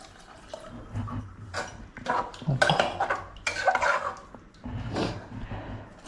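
Water poured from a glass into a pot of rice for chitranna in a home kitchen, heard as splashing pours mixed with clinks of metal pots and utensils, moderately loud and close, with no talking.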